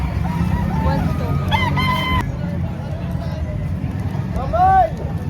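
A rooster crows loudly and close by at a chicken market in Padre Garcia, Batangas, with other fowl calling and clucking amid a busy hubbub of people talking and haggling.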